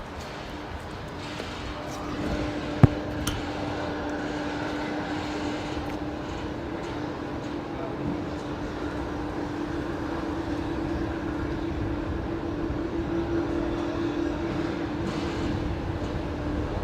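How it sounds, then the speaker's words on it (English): An Airbus A320 airliner arriving at Brisbane Airport produces a steady engine roar and broad rumble with a faint whine, heard from a distance. "We've just missed that touchdown, but the 320's just arrived"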